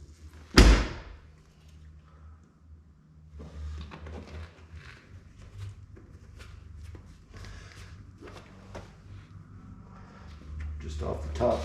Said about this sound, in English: When you close the door,